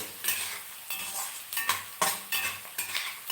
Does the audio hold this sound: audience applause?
no